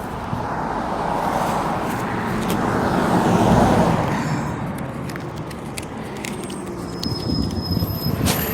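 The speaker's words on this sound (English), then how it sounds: "Oh, here comes the bus." A city bus draws near along a road, its engine rumble building to a peak midway and then easing off, set against steady street traffic, with no voices.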